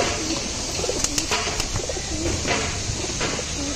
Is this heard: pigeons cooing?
yes